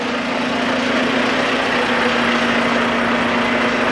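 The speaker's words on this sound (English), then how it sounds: "just go ahead and start the engine" Truck engine idling steadily after a pre-trip inspection, a loud, close, continuous low rumble with a constant hum and no breaks or voices.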